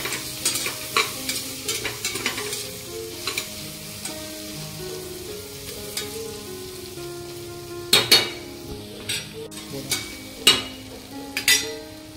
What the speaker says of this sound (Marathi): थोडे चांगले परतून घ्यायचे।